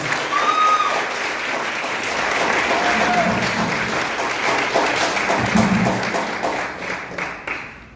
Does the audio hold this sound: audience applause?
yes